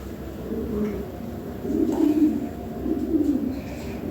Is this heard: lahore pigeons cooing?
yes